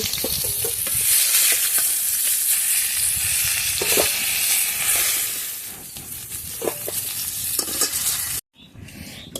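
Rui fish fries in hot oil in a pan, a loud bright sizzle with crackling and occasional stirring knocks, steady until an abrupt drop near the end.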